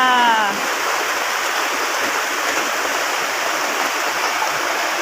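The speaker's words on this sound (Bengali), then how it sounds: "আমাদের ছাদের থেকে কিভাবে পানি পড়তেছে" Rainwater pours off a house roof after two days of heavy rain, making a steady rushing, splashing flow that stays even and fairly loud throughout.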